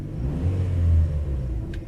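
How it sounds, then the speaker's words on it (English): 2003 Chevy Cavalier engine idling with misfires after sitting unused for about a year, a close, heavy low rumble that swells and eases slightly, with uneven pulses. "I'm not overly concerned about these little misfires"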